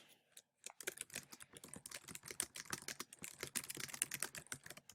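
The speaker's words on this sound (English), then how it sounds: "you can type your question and then click save" Fast typing on a computer keyboard, with dense, irregular key clicks after a brief pause at the start, close but fairly quiet.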